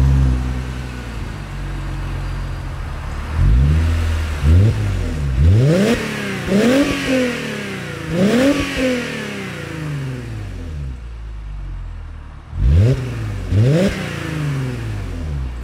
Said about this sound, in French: Déjà, quel son ça fait ce V6 ?